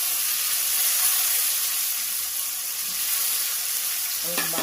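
Tomatoes and onions frying in a pan for an Andhra-style chicken curry, giving a steady, close, bright sizzling hiss that runs unbroken throughout, with a brief clink of utensils at the very end.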